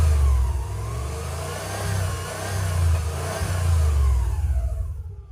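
A Subaru 2.2L engine swapped into a 1982 VW Vanagon Westfalia runs close by, a steady mid-low hum that swells and eases as it is revved, with no talk over it.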